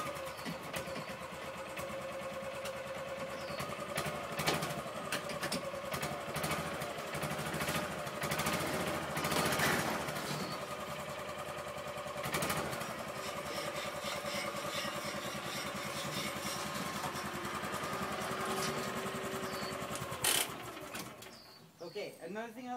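A Mule utility vehicle is driven off wide aluminum ramps, its engine running steadily and fairly near for about twenty seconds before cutting off, with some clanks and rattles.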